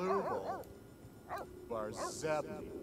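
Small dog in The Sims 3 letting out a few short yips and barks, mixed with whimpering sounds, close and fairly clear, with game voices around them.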